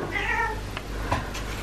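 A domestic cat meows indoors, one drawn-out call followed by a couple of shorter, fainter mews, fairly close and alone over a low background hum.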